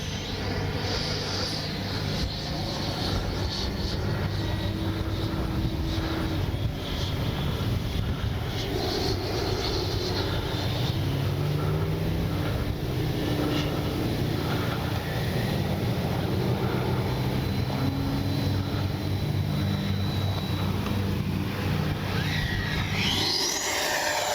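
An FMS Avanti S 90mm electric ducted-fan RC jet flies at full speed, a continuous whooshing whine under heavy wind noise, steady throughout and sweeping past near the end.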